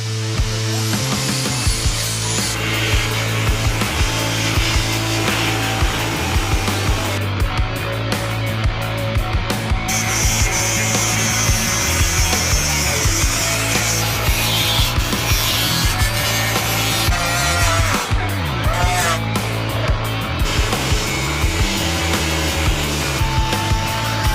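A grimy metal part being sandblasted in a workshop gives a loud, continuous gritty hiss over a steady low machine drone, with brief bursts and breaks in the blast.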